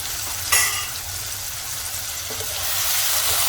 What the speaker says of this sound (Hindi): एक मिनट के लिए आलू को मैंने भून लिया है।